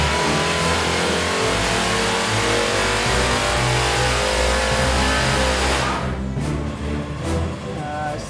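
Supercharged 427ci Small Block Ford V8 with a Paxton blower on a dyno, over 1,000 horsepower, roaring hard at high revs for several seconds, then dropping off as the throttle closes; loud and close.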